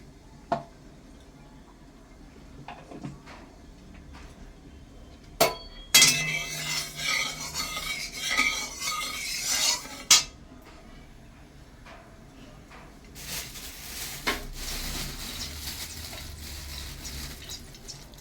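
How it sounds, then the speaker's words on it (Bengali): Cashews frying in ghee in a pan, a hissing sizzle in two stretches with clinks and scrapes of stirring in between, close and moderately loud, no talk. "এর মধ্যে আমি কাজু ভেজে নিচ্ছি।"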